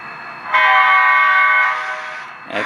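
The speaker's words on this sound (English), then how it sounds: "I think this was a CV change that I got this horn." An HO scale ScaleTrains CSX SD40-3 model locomotive's sound decoder blasts a loud, steady electronic diesel horn for about two seconds, then cuts off with a brief click of handling noise after.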